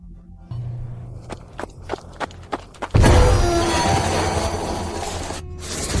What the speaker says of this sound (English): Then we hear the sound of footsteps running from behind Sarah.